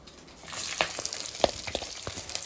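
Cumin and mustard seeds fry with onion in hot oil, a soft continuous sizzle broken by sharp irregular crackles and pops, close and fairly quiet.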